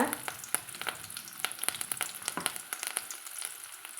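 Shallots and curry leaves frying in a pan for kara kulambu, a fairly soft crackling sizzle with sharp little pops and a few stirring scrapes, close by with no voices.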